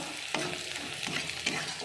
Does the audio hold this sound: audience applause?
no